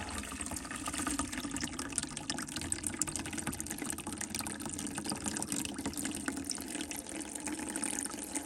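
Water flushing through underfloor heating pipes during a home cleaning, a steady, faint rushing and gurgling hiss that runs continuously with no talk.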